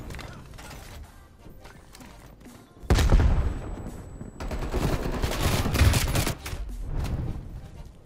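Rapid automatic gunfire from a Call of Duty Cold War multiplayer match, XM4 rifle included, bursts in loud, dense volleys after a quieter opening, with sharp clattering shots continuing almost to the end.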